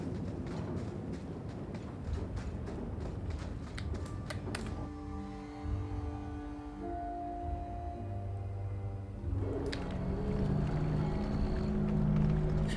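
Dock ambience in the Dragon Age 2 video game, a busy mix of creaking, clip-clopping and tapping sounds with musical tones swelling in the middle, steady and moderately loud throughout.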